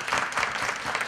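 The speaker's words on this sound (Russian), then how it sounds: "Аплодисменты этой группе." A brief burst of applause from a seminar audience for one group of participants, a soft, fairly distant patter of many hands lasting only a moment.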